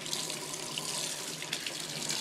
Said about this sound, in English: I put a little bit of conditioner on her, so I'm going to rinse it off